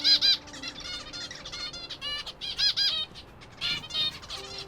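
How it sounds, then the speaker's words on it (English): Small finches and other garden birds chirp in quick, soft bursts of high tweets, with brief pauses and a faint flutter of wings, close by in a quiet setting. "Everyone chirping softly, waiting for breakfast."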